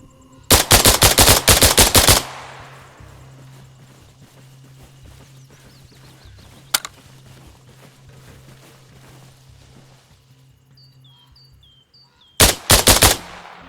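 Video game gunfire in Arma Reforger: a loud rapid burst of automatic shots, a lone shot in the middle, then another rapid burst at the end, with quiet ambience and faint bird chirps between.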